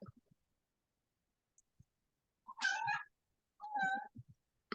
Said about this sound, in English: Kitty's meowing.